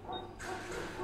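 A puppy giving a brief high yip or bark, short and close, with a voice murmuring faintly around it.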